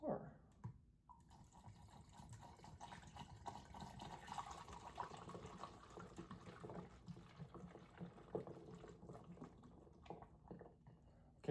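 Liquid is poured through a plastic cup cut and twisted into a makeshift funnel and into a bottle, giving a continuous trickling, gurgling pour with small splashes, close and fairly quiet.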